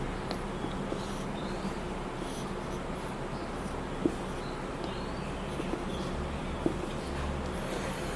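Pen or chalk writing during a lecture while a diagram of a mass element is drawn, a steady scratchy scribbling at low level with a couple of small taps, no talking.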